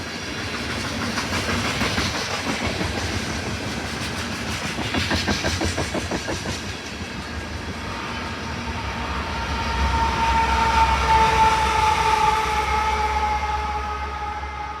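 A freight train hauled by CN GE diesel locomotives rumbles past nearby in winter, with steady wheel clatter and diesel engine drone, a sustained horn-like tone rising toward the end.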